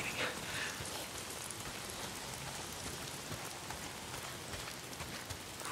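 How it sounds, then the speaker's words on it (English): Steady rain pours down evenly in the video game Days Gone, a continuous hiss of drops with no talking, holding at the same level throughout. "If it's not the freaks, it's the goddamn rain."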